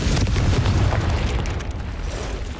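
Confringo fire spell blast in the game Hogwarts Legacy, a loud deep rumbling explosion that booms at once and slowly rolls off over a couple of seconds.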